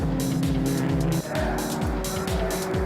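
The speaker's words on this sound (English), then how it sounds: "a bit of a lock on the brakes there for Van Rooyen as he has to turn wide around Houston into turn 6" Historic racing cars brake and corner on a race track, with engines roaring loudly and continuously and tyres squealing, as repeated downshifts and revving sweep through the sound.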